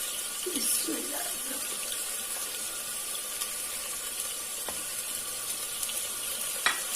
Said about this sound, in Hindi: तो इसको अच्छी तरह से हम भूनेंगे। ये चिकन भी अच्छी तरह से भून गया